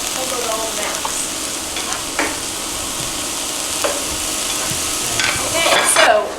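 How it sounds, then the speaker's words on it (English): Onion, carrots and pepper fry and get stirred in a pan for vegan burritos, a loud, continuous sizzle with scraping stir strokes that swell near the end. "Get the carrots and the pepper all in there. Just give it a good old mix."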